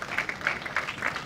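Padel spectators at the Open de France clap for the players in a mixed semifinal, a moderate spread of applause with a few cheers rising and falling over a noisy arena hum.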